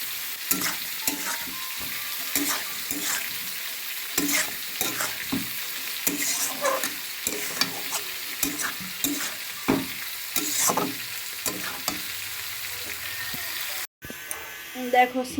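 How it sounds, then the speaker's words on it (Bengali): Eggplant and pointed gourd slices sizzle steadily in hot oil, with repeated scraping and clattering stirs from a spatula across the pan and a voice talking now and then over the frying. "ভাজা বেগুন ভাজা পটল ভাজা হয়ে গেছে"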